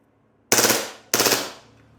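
Airsoft gun firing full auto, two loud close bursts of rapid shots in quick succession, each lasting about half a second with a short gap between them, alone without talking.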